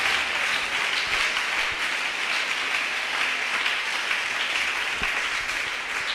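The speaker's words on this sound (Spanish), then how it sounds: "Fuerte ese aplauso para el Señor." A church congregation keeps up sustained, loud applause during a Pentecostal sermon, a continuous broad roar of many hands clapping at an even level from start to finish.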